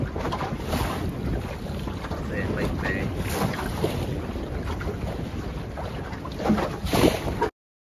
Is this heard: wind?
yes